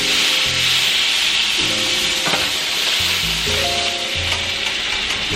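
Already cooked lobster tail sizzling in melted butter in a pan, a loud steady crackling fry with scraping and stirring noises over it.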